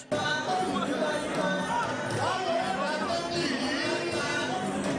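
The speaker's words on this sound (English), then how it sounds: "security operatives had a tough time controlling the crowd" A noisy crowd at the Lagos State House of Assembly during a speaker's proclamation, with security struggling to hold people back; steady overlapping chatter and babble from many voices fills the scene without letup.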